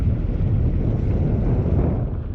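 Strong wind roars steadily over a sailboat leaving the harbour at Piriac-sur-Mer, a loud continuous rumble buffeting the microphone with no speech.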